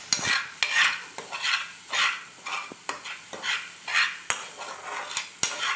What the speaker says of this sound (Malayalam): ഒരു ഗോൾഡൻ ബ്രൗൺ കളർ ആവുന്നവരെ ഇങ്ങനെ ഒന്ന് വഴറ്റി കൊടുക്കണം